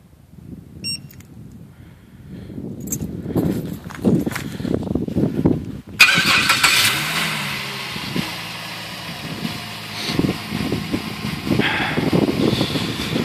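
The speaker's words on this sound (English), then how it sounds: "So I'll use the remote start to turn it on." A 2005 Jeep Liberty engine starting by remote start, a sudden catch into a steady close idle after some quieter shuffling sounds beforehand.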